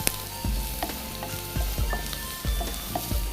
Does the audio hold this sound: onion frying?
yes